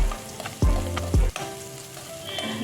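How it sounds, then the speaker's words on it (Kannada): Onions frying in a pan on medium flame, an even, close sizzle broken by two quick thumping scrapes of a spoon against the pan, with no talking. "ಮೀಡಿಯಂ ಫ್ಲೇಮ್ನಲ್ಲೇ ಇದು ಕೆಂಪಾಗುವವರೆಗೂ ಫ್ರೈ ಮಾಡಿಕೊಳ್ಬೇಕು"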